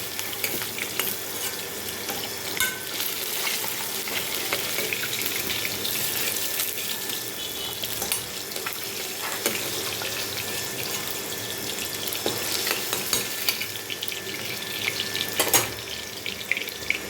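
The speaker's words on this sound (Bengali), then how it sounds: "মাছটা লাল লাল করে ভেজে নিলাম।" Katla fish pieces fry in hot oil in a pan, giving a steady, dense sizzle and crackle throughout with occasional sharper pops and clinks near the end.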